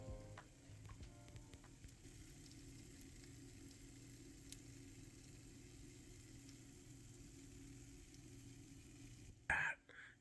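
Rockfish frying in a pan gives off a faint, steady sizzle that runs throughout, ending with a brief clatter.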